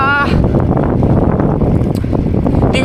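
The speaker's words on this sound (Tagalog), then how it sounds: "malakas yung hangin sobra" Strong gusty wind roars and buffets the microphone continuously while riding a bicycle outdoors on an overcast day, loud and close throughout.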